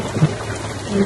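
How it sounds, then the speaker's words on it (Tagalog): Heavy rain pours in a steady hiss during a storm near the municipal hall in San Jose, with a low thunder rumble beneath it, loud and continuous over about a second. "Sobrang ulan."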